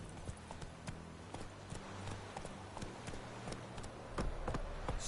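Rhythmic hoofbeats clip-clop steadily at a quick pace, a horse running over ground in the video game The Witcher 3: Wild Hunt, with faint background noise.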